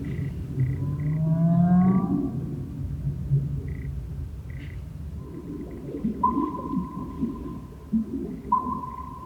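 Recorded whale song plays in the background, with low rumbling and drawn-out rising moans, then long steady tones near the end, moderately loud and with no talking.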